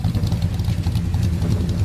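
A classic car's V8 engine idles with a deep, steady rumble, continuous, low and close, with a slight uneven throb throughout.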